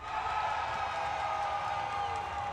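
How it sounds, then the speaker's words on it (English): A large crowd at an esports arena during a Marvel Rivals grand final cheers steadily, a dense continuous roar of voices and applause held at an even level. "We've heard what the crowd think."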